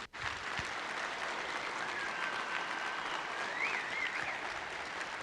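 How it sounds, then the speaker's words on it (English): A conference audience claps steadily for about five seconds, a dense, even patter of applause that starts abruptly and holds without fading. "if you give a round of applause to our planning committee,"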